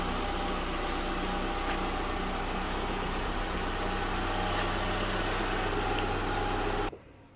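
A car engine idles steadily after a service, a continuous low rumble and hum with slight vibration, close and even throughout before cutting off abruptly at the end, with no talk.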